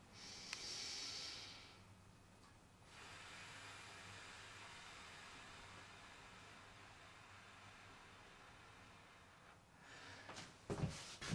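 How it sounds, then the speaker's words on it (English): Slow, deep breaths for a singing exercise: one long breath in at the start, a long steady breath out that fades, then a soft rustle near the end. The sound is close and quiet. "breathe in from here, down in the stomach area, and then breathe out slowly"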